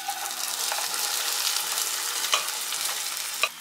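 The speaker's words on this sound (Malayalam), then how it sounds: "ഞാനിപ്പോൾ ഇതിലേക്ക് വെന്ത കടലപ്പരിപ്പ് ചേർത്ത് കൊടുക്കുകയാണ്." Cooked chana dal added to a hot pan and stirred, a bright continuous sizzle with occasional clinks and scrapes of the spoon, close up and alone without speech.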